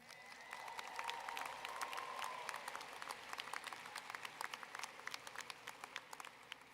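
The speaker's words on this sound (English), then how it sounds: "Let's get some applause for some parents." A university commencement crowd applauds steadily, many hands clapping at a distance, the sound swelling early and then thinning into scattered claps toward the end.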